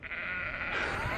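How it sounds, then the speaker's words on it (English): A sheep bleats once in a field in the Netherlands, a single drawn-out nasal call heard close by over light outdoor background noise. "Lots of sheep. Morning sheep!"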